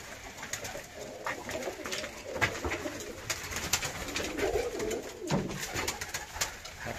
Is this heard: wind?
no